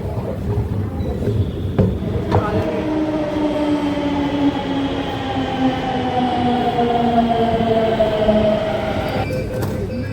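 A metro train rumbles steadily and loudly throughout, with a rising whine of the motor and a bright tone near the end, and no talking.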